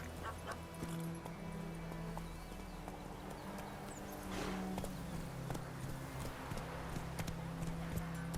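Roach, a horse in The Witcher 3, walks with a steady, unhurried clip-clop of hooves over a constant low background hum, with a few faint barks mixed in.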